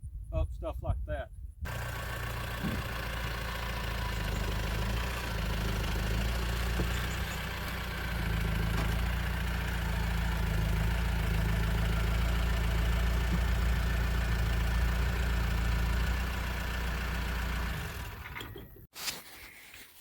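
A stock-ECM Mahindra Roxor on 44-inch tires idles with a steady, low mechanical rumble for most of the clip, then cuts off near the end. Brief bursts of other noise come at the start and close.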